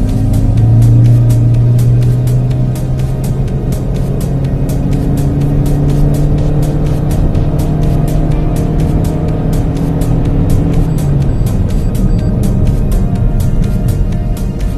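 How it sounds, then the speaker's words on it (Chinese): A Toyota Corolla hybrid with a naturally aspirated engine and small electric motor accelerates at full throttle from 0 to 100 km/h, its engine drone rising steadily from inside the cabin, loud and continuous, before the pitch drops near the end. "那么我们现在就来实测一下它的真实的0/100加速"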